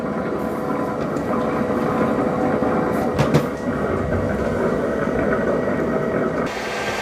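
An ECOVACS DEEBOT T20 Omni robot vacuum and mop drives out of its docking station, giving a steady, loud mechanical whir and rumble that runs throughout, with a brief clunk near the middle and a slight drop in tone at the end.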